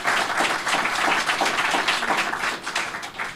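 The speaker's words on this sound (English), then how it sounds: "let's again give another round of applause for the panelists" Luncheon audience at an innovation competition event applauds the panelists, a moderate, even patter of many hands clapping at some distance that holds steady and tapers slightly toward the end.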